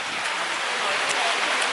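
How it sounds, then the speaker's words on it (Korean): Wind and rain at an outdoor food spot in Da Nang, Vietnam, a steady broadband hiss of rainfall and gusts filling the whole stretch without pause. "지금 바람 불고 막 비 오고 있어요"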